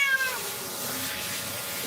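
A Persian cat meows during a bath, its cries brief and fairly faint over a steady wash of running water and splashing that fills the whole stretch.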